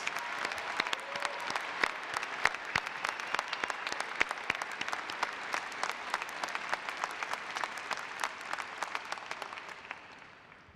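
Large audience at a university fall commencement breaks into sustained applause honoring new Doctors of Education, a dense, even roar of many hands clapping that holds steady and then tapers off toward the end.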